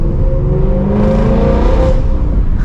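Ford Mustang GT V8 with its exhaust valves open, revving hard and accelerating, a loud, close rising engine roar with climbing tones and no voices over it.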